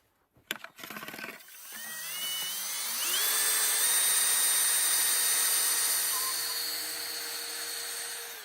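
A power drill bores into wood with a drill bit during log cabin building in the wild, a sharp click followed by a loud, steady high-pitched whine that holds for several seconds close by, with no talking.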